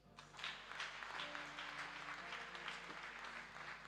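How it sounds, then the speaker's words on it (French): A church congregation applauds during a worship service, steady clapping from a crowd heard at moderate distance over a low hum, continuing without a break. "Acclame Jésus."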